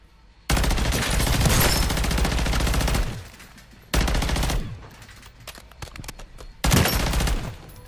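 A new AR assault rifle in Call of Duty MWZ fires in three loud sustained automatic bursts, the first long and the later two shorter, with faint scattered shots between and no talk.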